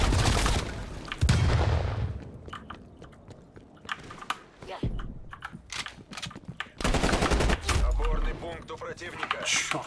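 Gunfire in the Call of Duty: Black Ops Cold War beta, with loud rapid automatic bursts at the start and end and a spread of sharp single shots between them, under someone speaking.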